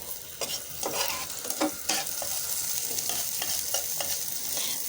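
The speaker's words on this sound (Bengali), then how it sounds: "তেল আর শুকনো মরিচটা আমি একটু ভালো করে ভেজে নেব।" Dried red chili and sliced onion fry in hot oil in a pan, a steady close sizzle broken by several sharp scraping stirs; no one speaks.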